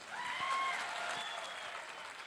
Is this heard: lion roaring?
no